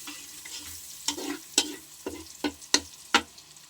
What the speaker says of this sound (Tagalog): Lagay yung bawang. Mag-isa tayo ng bawang.